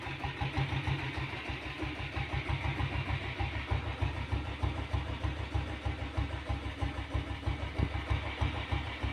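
Royal Enfield diesel Bullet motorcycle engine idling steadily with a low, even, rhythmic thump, heard close and fairly quiet with no talk.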